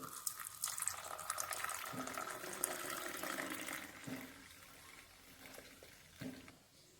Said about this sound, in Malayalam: നല്ല ചൂടുള്ള പാല് ഒഴിക്കുക ഒന്ന് പൊക്കി ഒഴിക്കണം